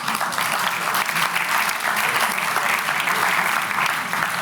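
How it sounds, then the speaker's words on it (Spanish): Audience in a hall applauding steadily, a thick even wash of clapping throughout with little else heard. "Por favor, un aplauso para ellos."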